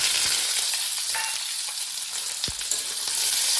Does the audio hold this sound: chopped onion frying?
yes